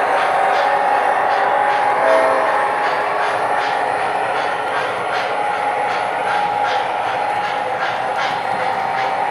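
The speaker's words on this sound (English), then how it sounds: "now the trains are coming around the first reader" Model trains running around a layout, a steady close rumbling hiss with a regular clickety-clack of wheels over track joints throughout.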